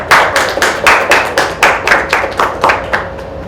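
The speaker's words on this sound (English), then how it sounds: "I would like to clap for them." A small group claps at a business meeting, sharp regular bursts of hand claps roughly every third of a second, close and loud, with no talk over them.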